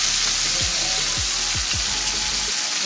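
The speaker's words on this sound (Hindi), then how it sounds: "हम इस तरह से इसको डीप फ्राई में फ्राई करेंगे" Chicken tikka masala pieces deep-frying in hot oil, giving a loud, steady broadband sizzle with a few low thumps as pieces drop in, ending abruptly.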